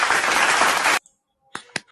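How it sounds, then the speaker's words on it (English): About a second of dense applause from a small group, a continuous wash of overlapping hand claps that stops abruptly, followed by a few isolated claps. "I have claps."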